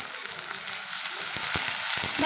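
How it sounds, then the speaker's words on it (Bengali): Ginger paste fries with onions and garlic in a pan, giving a steady, close sizzle with a few faint clicks near the end. "এবারে দিয়ে দেবো আদা বাটা"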